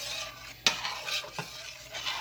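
Stirring yellow rice in a pot on a stove, a sharp metal clink of the spoon against the pot followed by soft scraping and a second knock, over a faint background sizzle.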